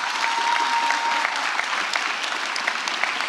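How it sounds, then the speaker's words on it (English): A graduation audience at a Houston school ceremony for the class of 2025 claps in a dense, steady wash of applause, sounding large and sustained, with a faint whistle near the start. "let me hear you clap your hands."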